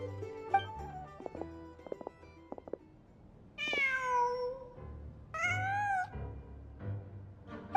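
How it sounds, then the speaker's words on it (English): A cat meows twice in Genshin Impact, each call rising then falling in pitch, set over a soft, steady in-game background with light plinking musical tones before the calls. "Just a cat."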